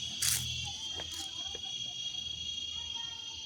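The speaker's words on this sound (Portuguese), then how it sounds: "O calor aqui tá tão forte, irmão, que a cigarra tá cantando." Cicada singing in strong heat, a steady high-pitched buzzing drone running throughout at moderate distance, with faint background noise and a few brief rustles.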